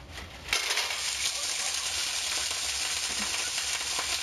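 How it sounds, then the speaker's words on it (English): Clams tossed into a hot pan for New England clam chowder hit with a sudden loud sizzle that holds steady and crackling after a quieter moment, with some voice in the background. "I'm going to toss my clams right in there."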